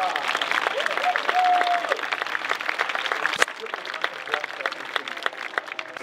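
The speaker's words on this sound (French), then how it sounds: "Mesdames et messieurs, je vous demande un tonnerre d'applaudissements pour Loïsa." A festival crowd in Guingamp applauds for Loïsa, steady dense clapping filling the whole stretch, with a few voices and a whistle-like tone rising over it early on.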